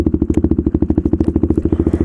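KTM Duke 390 single-cylinder engine on a night ride, a loud, close, steady rapid thumping exhaust pulse with even rhythm throughout, no talk.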